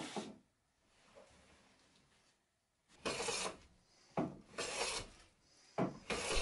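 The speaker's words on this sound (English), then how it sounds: "I planed the two inside faces flat and square to each other." A hand plane shaves the inside faces of a wooden table-leg blank flat and square, giving several close, rasping strokes of a second or so each, separated by short pauses, with quieter scraping before them.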